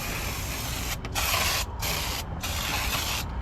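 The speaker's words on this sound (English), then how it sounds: "Just lay some of this brake cleaner on it." Brake cleaner sprayed onto car brake parts in close, loud hissing bursts, three or four long blasts separated by short gaps, with no one talking.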